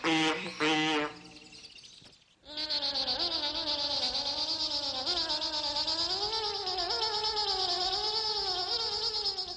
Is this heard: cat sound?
yes